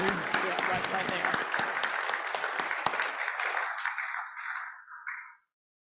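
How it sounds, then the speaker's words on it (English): Hearty applause at a Kiwanis club meeting for North Carolina Insurance Commissioner Mike Causey, a full room clapping loudly and steadily for about four seconds before it thins and stops abruptly, with some voices mixed in. "Let's give Commissioner Causey a great round of applause and for his time for driving up today"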